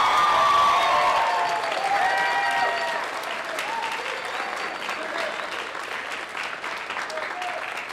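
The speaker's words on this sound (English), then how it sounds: "Let's give them one more round of applause." Audience applause and cheering at a Springdale High School band spring concert, a dense, steady wash of clapping that starts loudest and eases slightly over eight seconds, with a few whoops and faint voices mixed in.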